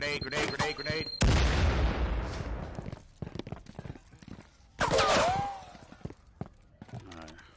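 Gunfire and grenade explosions in a competitive first-person shooter match: sharp shots, then a long heavy blast near the start and a second loud explosion midway, with scattered shots and impacts between.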